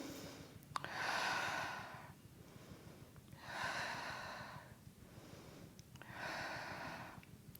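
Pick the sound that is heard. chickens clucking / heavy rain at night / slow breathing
slow breathing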